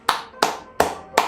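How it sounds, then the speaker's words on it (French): Four sharp hand claps at an even, steady pace, close and clear with nothing else heard, like a small round of applause. "on peut t'applaudir"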